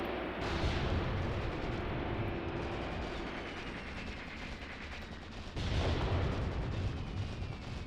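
Artillery shells from a WWII-era barrage slam down in the Mius Front war game, a dense, continuous rumble of distant impacts and heavy gunfire with a louder burst near the end.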